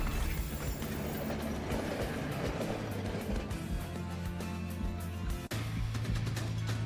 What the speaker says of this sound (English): The train rumbles.